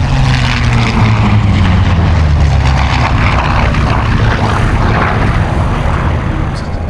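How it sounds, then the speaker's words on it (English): Turbo-supercharged engines of a Lockheed P-38 in a four-ship formation with a B-25, F4U and P-51 over Old Warden Aerodrome, a loud, steady propeller drone and rumble that holds throughout and fades slightly at the end. "Turbo supercharged engines, an unusual feature."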